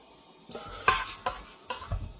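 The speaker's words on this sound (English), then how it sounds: "So put the pumpkin, give it a little stir" Pumpkin pieces stirred in a sauce in a pan give a few scraping, clattering strokes of a utensil against the pan over a faint sizzle, close and irregular, with no talking.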